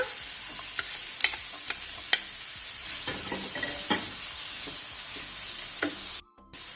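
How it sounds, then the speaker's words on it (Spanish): Half a green and half a red pepper sautéing in a pan, a steady close sizzle broken by repeated scraping stirs and light taps, with a brief drop to near silence just before the end. "Medio pimiento verde y medio pimiento rojo que voy a echar ahí para sofreír"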